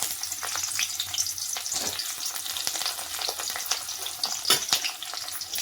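Vegetables, including the seasonal bora, fry in hot oil in a pan with a steady, close crackling sizzle and occasional sharper pops and stirring scrapes throughout.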